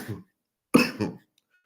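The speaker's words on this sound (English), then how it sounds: "I have like an ugly cough" Two short, harsh coughs, a brief one and then a stronger double cough, close by with silence between them.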